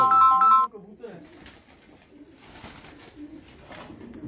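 Teddy, Ferozpuri and Sialkoti pigeons coo softly in soft, low repeated calls, after a brief electronic tone at the start, with faint background noise and murmuring around them.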